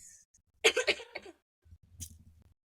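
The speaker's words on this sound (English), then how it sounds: "Cough break." A sharp cough burst followed by a few shorter coughs, then a quieter low rasping throat sound after a pause.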